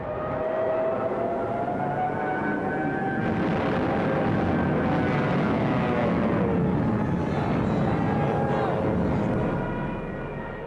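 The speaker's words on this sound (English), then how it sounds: "with Stuka dive bombers blitzing just ahead of them" German Stuka dive bombers roar overhead with a loud, sustained wailing whine whose pitch slides and rises, blending with heavy engine noise for the whole stretch.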